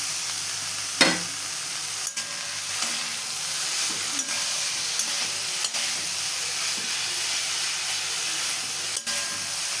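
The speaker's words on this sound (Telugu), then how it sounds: "ఇప్పుడు ఈ చిక్కుడుకాయల్ని వేసేసేయాలి" Broad beans frying with tomatoes in a pan, a steady loud sizzle and hiss running throughout with occasional stirring scrapes and soft clicks, no talking.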